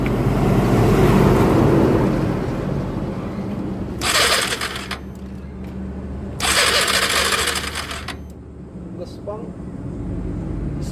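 Kawasaki Barako 3 motorcycle engine misfiring, a steady rough low idle with uneven sputtering, broken twice by loud bursts of revving or hissing noise, while people talk nearby.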